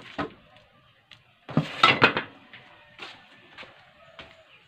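Metal pot lids clatter and clink as someone rummages for the right lid for a large pot, a few sharp scattered knocks with a brief cluster of rattles in the middle, close and alone.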